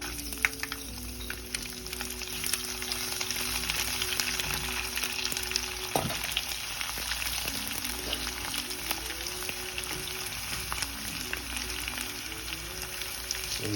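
Garlic frying in hot oil for a Kerala pickle, a steady close sizzle and crackle that runs unbroken throughout with a faint tonal hum beneath.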